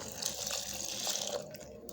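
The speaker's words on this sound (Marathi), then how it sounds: "पाणी टाकूत" Water splashes into a cooking pot holding peanuts, turmeric and dried chickpea leaves, a short steady pour heard close and fairly quiet before it trails off.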